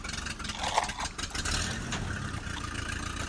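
A toy tractor's engine runs with a steady, moderately loud mechanical rumble and whirr, with a few faint clicks over about three seconds and no speech.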